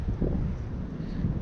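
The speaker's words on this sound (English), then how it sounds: "There's a little breeze." Low, rumbling gusts of a light breeze buffet the microphone beside moving water while fishing, a soft continuous roar with slight swells, no voices.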